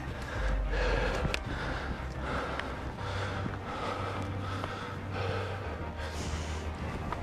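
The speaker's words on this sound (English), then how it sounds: "not without a little bit of heavy breathing" Heavy, rhythmic breathing with repeated deep inhales and exhales during a mountain hike on an elk hunt in Montana, close to the microphone, over a low rumbling background.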